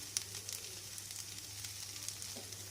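Onions sautéing in a little oil, a faint steady sizzle with light crackles, quiet and close, with a low constant hum underneath.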